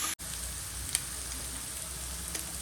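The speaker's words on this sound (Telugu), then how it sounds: "దీంట్లో సాల్ట్, చిల్లీ పౌడర్ వేసుకొని మంచి ఫ్రై అయ్యేంత వరకు ఫ్రై చేసుకోండి." Vegetables frying in a pan with salt and chilli powder for spicy veg soupy Maggie give a steady, soft sizzle throughout, with a brief dropout near the start and a couple of faint clicks.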